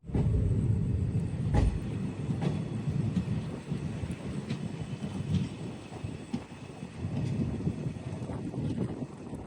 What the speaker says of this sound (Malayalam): ട്രെയിൻ ഇപ്പോൾ KSR ബംഗളൂരു റെയിൽവേ സ്റ്റേഷനിലെത്തി